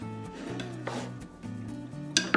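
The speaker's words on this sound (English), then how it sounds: "I have this baguette. I'm gonna cut this in half" A serrated bread knife saws through a baguette in short rasping strokes, close and fairly quiet, over a low background hum, ending with a couple of sharp taps.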